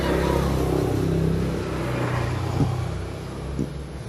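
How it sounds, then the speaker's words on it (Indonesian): Busy village street in front of a house, with a steady wash of car and motorcycle engines passing by at moderate distance, a continuous rumble with a couple of brief louder swells as vehicles go past. "suara keramaian jalan teman-teman. Jadi banyak sepeda motor lalu lalang di depan rumah saya."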